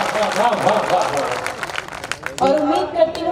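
Audience applause at a Hindi poetry and comedy stage show, a dense wash of clapping that swells and fades under someone speaking over the crowd.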